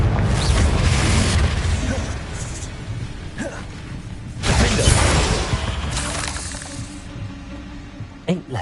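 A Confringo blasting spell in the Hogwarts Legacy video game erupts in several loud booming, shattering bursts with crackling debris between them, while speech runs in the background.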